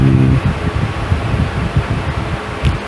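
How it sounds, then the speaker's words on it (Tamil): An electric fan sits very close to a phone microphone, giving a loud, steady rushing whoosh with pulsing buffeting throughout, briefly joined at the start by a low hum. "கன்ஃபார்மாக எனக்கு தெரிஞ்சு இந்த மைக்லையுமே ஃபேனுடைய நாய்ஸ் ரொம்பவே நல்லா கேட்கும்."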